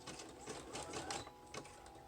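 A sewing machine runs a zigzag stitch along the edge of a ribbon, giving a close, steady mechanical chatter with quick rhythmic bursts that pause briefly partway through.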